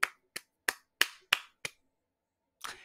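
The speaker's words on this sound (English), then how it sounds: "gonna clap it up for Mike Nolan" Six sharp hand claps ring out alone at a quick, even pace, followed by a short pause and one last softer, rougher clap.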